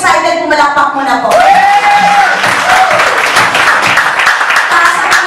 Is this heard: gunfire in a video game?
no